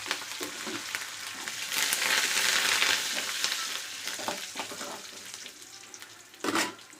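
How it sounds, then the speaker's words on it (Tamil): Garlic sizzles and crackles in hot oil for a Tamil brinjal curry, the frying swelling louder as it is stirred, with a sharp clatter near the end. "பாருங்கள், நல்லா இப்படி வறுத்துக்கலாம்"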